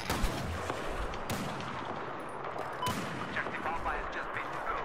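Video game missiles and gunfire crack and boom in a dense, continuous barrage, with sharp louder blasts standing out against a steady roar of battle noise.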